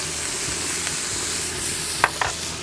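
Cellophane noodles stir-frying with cucumber and crumbled sour pork in a Thai kitchen, a steady frying hiss with a couple of quick utensil clinks near the end.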